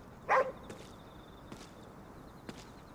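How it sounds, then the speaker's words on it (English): A dog barks once in the Ghostwire Tokyo video game, a short sharp yelp near the start, followed by faint thuds and a quiet tonal hum in the game's background. "I think it's a dog."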